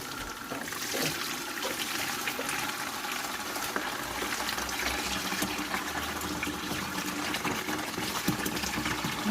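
Water gushes steadily and loudly while a blocked central heating boiler is back-flushed, a continuous rushing flow that runs through the whole stretch with no talking.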